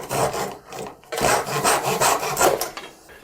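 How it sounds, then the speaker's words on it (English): Hand saw cutting through wooden dowel pins for joinery, a close, rough rasping of rapid back-and-forth strokes, continuous apart from a brief pause near the start. "I'm just going to go in here and cut them at about that long"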